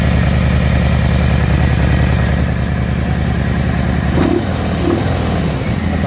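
A 2018-or-later Harley-Davidson FXBRS fitted with a Jekill&Hyde muffler idles with a steady, close, low rumble, then gives a couple of brief throttle blips near the end.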